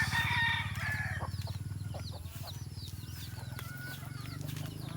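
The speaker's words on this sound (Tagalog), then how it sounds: "Yung labuyong manok." Several short rising junglefowl rooster crows sound over a steady low engine-like hum, with bird chirps scattered throughout.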